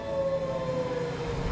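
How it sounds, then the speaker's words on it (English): A wolf howl in the video game Disney Dreamlight Valley's Storybook Vale, a long, steady wavering wail heard at moderate distance over a low ambient game backdrop. "We can hear the wolf howling."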